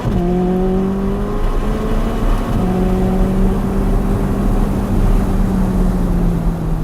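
An open-roof car's engine pulls hard out of a corner on a race track, a loud, close, steadily rising drone with smooth harmonic whine, heard alone without talk.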